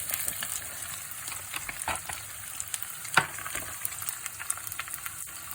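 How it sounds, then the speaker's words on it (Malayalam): Chopped, peeled white coconut crackles and sizzles in hot oil, with soft steady frying and scattered sharper pops and stirring clicks close by, no voices. "ഇത് തേങ്ങ നമ്മൾ കൊത്തി അരിഞ്ഞു വെച്ചിരിക്കുന്നത്, പുറത്ത് തൊലിയൊക്കെ കളഞ്ഞ് നല്ല വൈറ്റായിട്ട്, അത് കുറച്ച് എണ്ണ ചൂടാക്കി അതിനകത്തിട്ട് നമ്മൾ ആദ്യം വറക്കണം."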